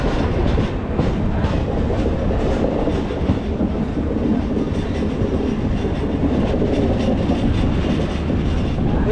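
Duronto Express train on the Mumbai to New Delhi run, nearing New Delhi railway station, rumbling steadily on the rails with a loud, continuous roar and faint wheel clatter throughout, no voices.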